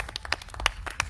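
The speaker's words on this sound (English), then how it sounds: "just wave or clap to respond." A congregation claps at a church service during preaching, a quick run of sharp, fairly close hand claps with faint talk underneath.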